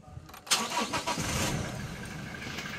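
A 2018 Toyota Innova starts up with a short crank that catches at once, then settles into a steady, close idle with no one talking.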